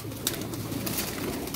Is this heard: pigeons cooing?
yes